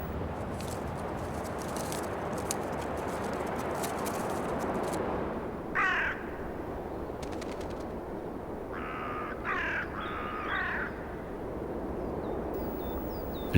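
Deep, croaking common raven calls sound a few times at a moderate distance over a constant rushing wind or surf noise near a cliff face.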